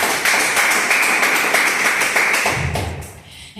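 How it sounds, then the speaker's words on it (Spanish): A church congregation claps together, a sustained patter of many hands that fades out after about two and a half seconds, leaving a few low thumps and a quieter tail. "Denle un aplauso al Señor."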